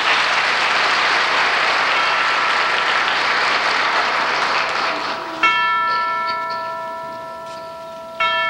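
A studio audience applauds the Sound of Music singers with a dense, steady burst of clapping that fades, after which bell-like chimes ring out.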